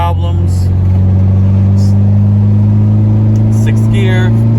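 A Honda Type R cruises on the road in sixth gear, a loud, steady low engine drone with road rumble from inside the cabin, while someone talks over it.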